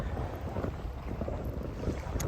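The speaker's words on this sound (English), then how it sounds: "Windier here." Steady wind rushes and buffets the microphone on a lakeside peninsula at Lake Garda near a marina, a continuous, fairly loud roar with no voices.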